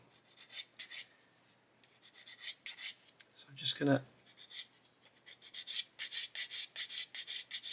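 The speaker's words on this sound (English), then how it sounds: "take my sanding stick and sand away until all the Sharpie's gone" Rhythmic rasping strokes of a sanding stick sanding Sharpie marks off a model part, rubbing back and forth in quick repeated bursts, with a brief spoken phrase partway through.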